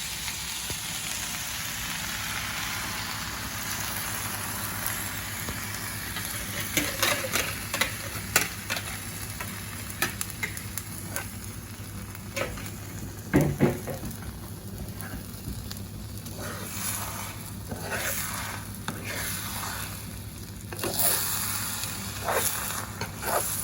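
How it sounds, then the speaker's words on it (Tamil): Beaten egg mixture with salt poured over sautéed vegetables in a frying pan for a frittata, sizzling steadily while a utensil scrapes and stirs in irregular taps and clatters. "இப்போ எக்கை ஊற்றியாச்சு. ஊற்றி நம்ம வந்து இந்த மாதிரி மிக்ஸ் பண்ணுறோம்."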